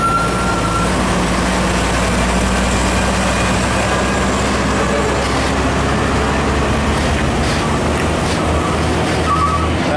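A Hino FM 350 truck towing a trailer drives past on a road, its heavy diesel engine rumbling steadily and loudly up close amid continuous traffic noise, with no talk.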